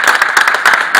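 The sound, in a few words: applause of encouragement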